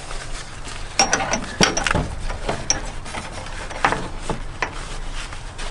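A strap on a fifth wheel RV is slid through a wheel slot and cinched tight, heard as a few close ratcheting clicks and rattles against a low background rumble.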